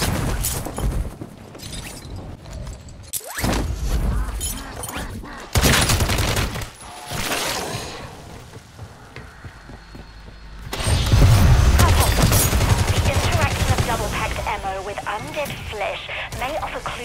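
Dense gunfire and booms from the Modern Warfare Zombies video game rattle on in sustained bursts, loud and close, under a character's voice that speaks over the action.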